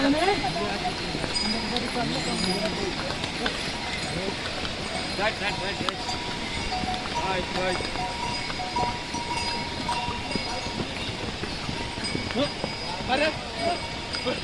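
Horses plod along a mountain pilgrimage trail on the Kedarnath trek, their hooves clopping faintly amid a crowded outdoor bustle with bells, while someone talks throughout.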